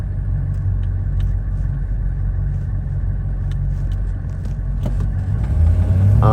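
A 1984 GMC Suburban K2500 with a Detroit Diesel cruising from inside the cab, a steady low diesel rumble that swells near the end as the engine pulls harder.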